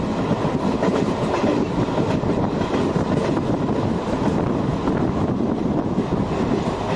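Passenger train on an Indian Railways route rolling through forest, a steady loud rumble of wheels on rails with faint clickety-clack throughout, continuous and close, with no talking.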